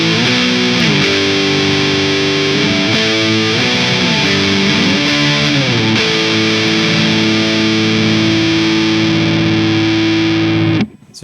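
A loud, heavily distorted electric guitar through a tube amplifier plays a chugging riff of sustained chords with brief note changes, thick and saturated, cutting off at the end.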